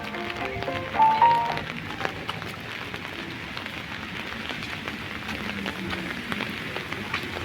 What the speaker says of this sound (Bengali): এরকম টপ টপ বৃষ্টি, হালকা বৃষ্টি, বেশি বৃষ্টি না, তবে এভাবে ছাতা নিয়ে হাঁটতে ভালোই লাগতেছে